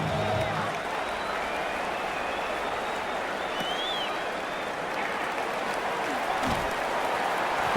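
A stadium crowd in the Madden NFL football game roars and applauds at the start of a divisional playoff game, a dense, sustained wall of cheering while a commentator's voice runs over it.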